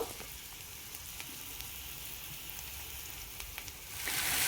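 Garlic, cumin and chilli powder fry in a pan with a steady, soft crackling sizzle, then a louder hissing surge at the very end as water goes in to simmer.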